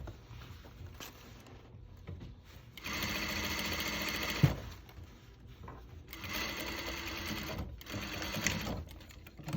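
A sewing machine stitches an original hem in two steady, close runs of rapid whirring separated by a pause with light handling clicks.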